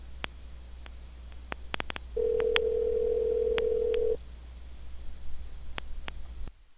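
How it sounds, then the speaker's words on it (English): A telephone payphone sound effect: scattered short keypad beeps, then a steady tone held for about two seconds, followed by a few more beeps, all clear and alone. "He's got a home payphone, apparently."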